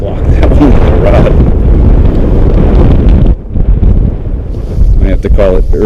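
Strong wind buffets the microphone on a white bass fishing boat, a loud, constant low rumble that dips briefly midway, with faint voices breaking through now and then.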